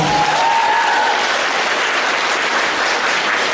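Audience applause at an arts festival in Ukraine, a steady dense crowd clapping that stays loud and even throughout without fading.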